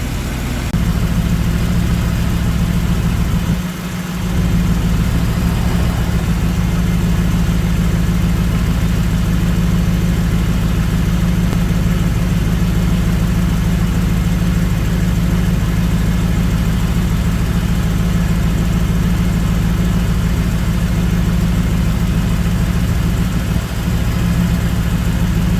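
The engine of a 1989 Pontiac Trans Am GTA idles to warm up after a transmission and differential fluid change, giving a loud, steady low rumble that continues unbroken throughout.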